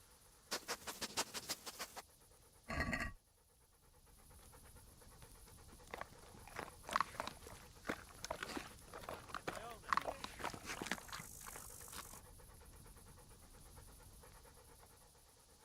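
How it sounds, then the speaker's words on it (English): In Kingdom Come: Deliverance, a dog pants in quick close bursts, then pads around with soft rhythmic footsteps and more panting; a voice speaks during the clip. "There's the good doggy."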